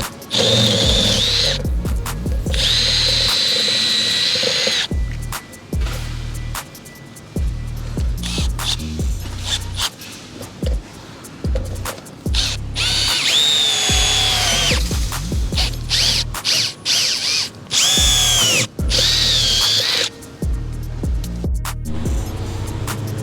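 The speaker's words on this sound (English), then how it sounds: "Let's get them drilled out." Power drill boring holes outdoors at -21°C, running in repeated loud bursts that rev up and stop, with whining motor pitch changes and brief pauses between holes, close by and without talk.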